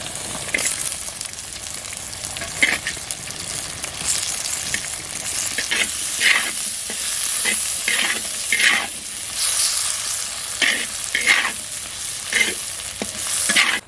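Steady, loud sizzling of garlic and chopped onion frying in oil, with repeated scraping stirs cutting through the crackle.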